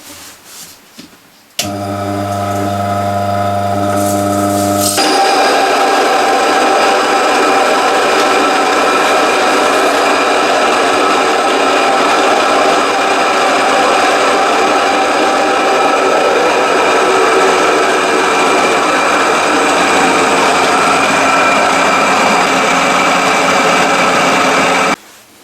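An electric flour mill switches on and runs steadily for about twenty seconds, a loud continuous grinding whir of the motor and stones that stops abruptly at the end, with a brief lower hum just before it starts.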